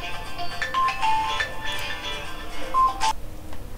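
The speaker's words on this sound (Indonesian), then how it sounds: "maaf tadi ada telepon" A phone ringtone chirps in short electronic tones, with a brief louder burst near the end of the clip, heard alone with no speech over it.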